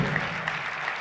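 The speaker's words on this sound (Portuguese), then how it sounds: "Uma salva de palmas, a instrução." Audience applause at a talk-show style interview, a short, steady burst of clapping from a crowd, moderately loud and without voices.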